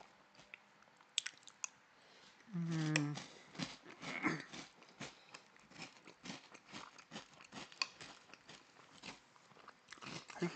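Crunchy breakfast cereal being chewed close to the mic, a steady run of crisp bites and crunches lasting several seconds, with a brief hum or murmur near the start.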